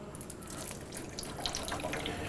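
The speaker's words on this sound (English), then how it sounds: "Now we're going to pour it in our container here." Blue liquid ice cream mix for Cookie Monster ice cream poured into a container, a soft continuous splashing trickle with faint drips, close and quiet.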